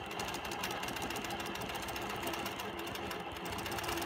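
A sewing machine running steadily for free-motion quilting of a curved stitch line, giving a continuous, fairly loud mechanical whir with a rapid needle rhythm and no break.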